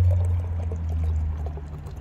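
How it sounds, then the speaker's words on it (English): An acai berry alcoholic drink, 6% alcohol, poured from a 12-ounce can into a glass, a continuous close liquid stream with a steady low gurgle over the full two seconds. "I'm actually going to pour it so that you can even see what color it looks like."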